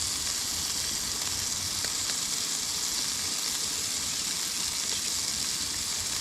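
Onions and Swiss cheese sizzle on a camp griddle beside toasting bread for a patty melt, a loud, constant hissing fry with a few faint pops, heard outdoors with no voices.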